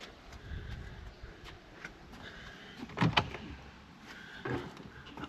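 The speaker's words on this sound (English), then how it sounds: "Oh, and a very noisy door." A noisy door in an old railway station waiting room creaks and bangs near the middle, with a second, softer knock or clunk shortly after, over a steady low room rumble.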